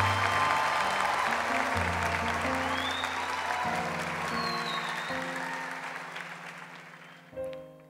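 A church congregation at Mass applauds loudly and steadily for about seven seconds, with sustained organ or keyboard chords beneath, before the clapping fades near the end.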